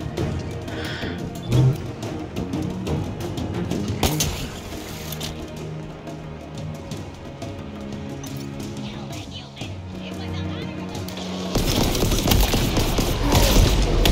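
In a Halo Infinite firefight, dense rapid gunfire rattles in bursts and a heavier crash breaks out near the end. It sounds loud and continuous, with a musical score underneath and no talking.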